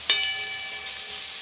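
Vegetables for a cauliflower and eggplant curry hit a pan of hot oil with tomatoes and garlic, a sudden sharp sizzle that settles into a steady, fading hiss, close and without voices.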